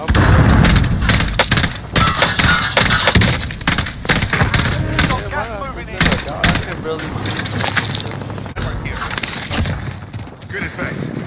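Video game gunfire, dense and loud, with rapid bursts and single shots crackling throughout under excited player voices talking over it.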